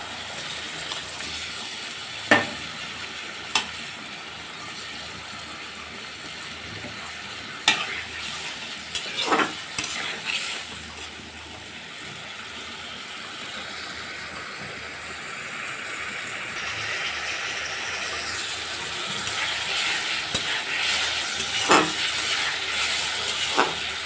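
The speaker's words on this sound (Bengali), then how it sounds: "মশলাটা কষানো হয়ে গেছে এখন দিয়ে দেবো টমেটো" Tomatoes go into a frying spice paste for a snakehead fish curry, giving a close, steady sizzle and hiss with occasional scraping stirs and knocks on the pan, no voices.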